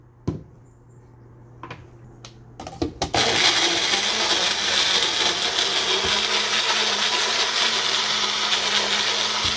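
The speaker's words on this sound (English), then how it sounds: "You're helping the blender." A few sharp knocks and clatters, then a blender roars into steady, loud continuous whirring that runs on to the end.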